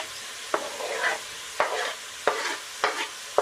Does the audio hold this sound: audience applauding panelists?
no